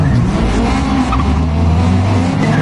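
Rallycross cars in a WRX Challenge race launch off the grid together with loud, dense engine roar and tire noise that hold steady through the short burst.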